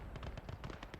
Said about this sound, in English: Sounds like a howitzer.